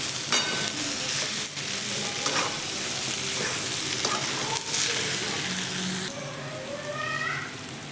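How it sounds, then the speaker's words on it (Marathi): Potato slices with red chili powder and turmeric frying in a pan, a steady close sizzle broken by repeated scraping stirs, with no one talking. "अर्धा चमचा हळद घेऊयात टाकून बटाट्याच्या काप छान घेऊयात मिक्स करून"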